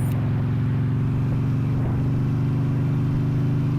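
Motorcycle engine droning steadily while shifting up through the gears, a low even hum heard from the rider's position without talk.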